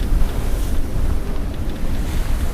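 Wind and waves at sea aboard a double-reefed sailboat with a staysail after a series of squalls: a steady roar of wind on the microphone over continuous wash of surf against the hull.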